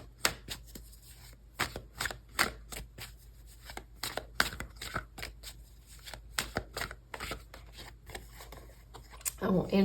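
Tarot cards are shuffled and pulled, sharp riffling flicks and snaps repeating in quick uneven bursts, close and crisp, with quiet room tone between them.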